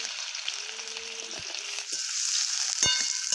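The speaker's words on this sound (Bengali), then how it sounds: "আমি কুচনো আপেলগুলো ভেজে নিচ্ছি" Steady oil sizzle of chopped apples frying in vegetable oil for chutney, a continuous crackling hiss with a few clinks of a utensil stirring in the pan.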